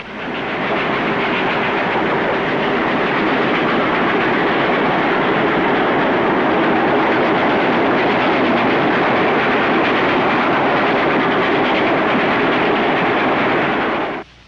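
Train rolling steadily along the rails, a continuous loud rumble and rattle of the carriages from start to finish with no voices.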